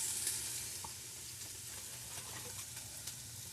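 Chopped celery sizzles faintly and steadily in a pot for a chowder. The hiss is soft and continuous, with a few light knocks and no talking.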